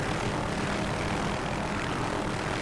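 Helicopter engine and rotor noise from an OH-6A modelled in the DCS flight simulator game, a steady, continuous broadband drone that holds at a constant loudness throughout, with no talk over it.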